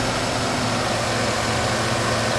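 The 5.3-liter Vortec V8 in a 2011 Chevy Silverado 1500 Z71 4x4 idles under the open hood, a steady, loud, close-up engine rumble with constant low-end throb and no voices.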